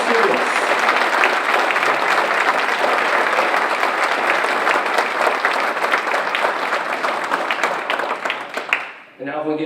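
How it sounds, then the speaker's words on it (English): Sustained applause from an audience at a school district board of trustees meeting recognizing students, a dense, loud roar of clapping that carries on for several seconds before tapering off near the end. "Let's have a big round of applause to the College Board National Recognition students."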